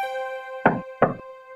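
Two sharp knocks on a cartoon grandmother's door, made by the wolf, sound in quick succession over a steady sustained musical tone.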